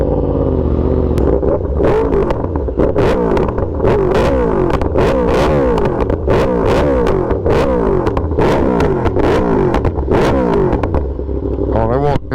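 A Yamaha R1M motorcycle engine rumbles steadily while riding at night, loud and close, with repeated sharp clatters and rises in revs over the continuous engine drone.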